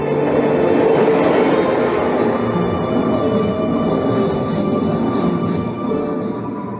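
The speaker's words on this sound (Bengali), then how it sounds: "কি সুন্দর ট্রেনের একটা সাউন্ড।" Cartoon-scene train sound effect: a steady, loud rumble of a train under way with rolling rail noise and faint clatter, continuous throughout and alone without speech.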